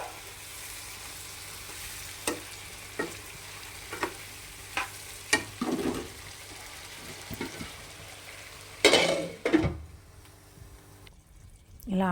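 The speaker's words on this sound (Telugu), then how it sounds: "మిగిలిన మసాలా కూడా అందుట్లో వేసేసుకుని అది కూడా ఆయిల్లో ఫ్రై అయితేనే టేస్ట్ బాగుంటుంది." Leftover masala spices fry in oil in a pan for a stuffed brinjal curry, giving a low steady sizzle broken by several sharp stirring clacks and a louder scraping burst near the end, heard close.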